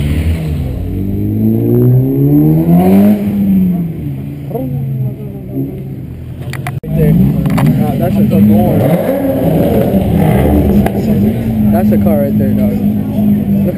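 A loud car revs at a car meet, its engine rising and falling in pitch through repeated throttle sweeps up close, with a brief cut partway through and people talking over it.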